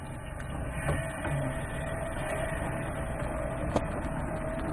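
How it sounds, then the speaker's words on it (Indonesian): The small electric motor of a portable popcorn maker hums steadily while it stirs margarine, a continuous mechanical drone with faint clicks and no voices. "lalu kita nyalakan motor untuk mengaduk margarin tersebut"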